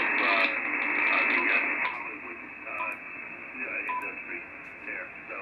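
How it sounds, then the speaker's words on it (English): Radio static hash on an Icom IC-705 transceiver with its filtering and DSP switched off, a continuous crackling wash of noise with faint tones and blips drifting through it, steady and fairly loud throughout. "Listen to the hash that's coming in."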